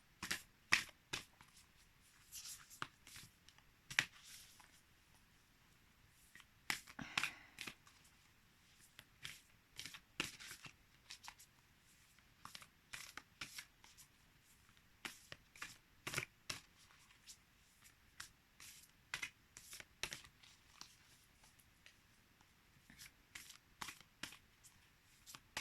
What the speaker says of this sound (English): shuffling these big cards